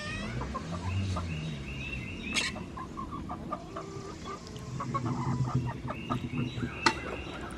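Chickens cluck and murmur around a farm coop, with several birds calling intermittently near and far and an occasional louder squawk over low background noise.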